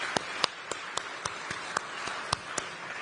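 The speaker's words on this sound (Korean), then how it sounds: "큰 박수 한번 부탁드립니다." Sparse, spaced claps ring out in the South Korean National Assembly chamber, about a dozen sharp hand claps in loose, uneven rhythm, moderately close and otherwise quiet.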